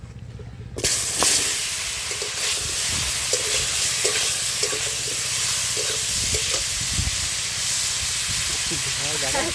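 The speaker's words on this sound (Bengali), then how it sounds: "আলুগুলো ভেজে নেব" Potatoes fry in a hot wok over a strong fire, giving a loud, continuous sizzle and hiss with occasional scraping stirs and clinks, close and steady throughout.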